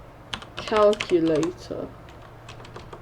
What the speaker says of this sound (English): after we finish typing that in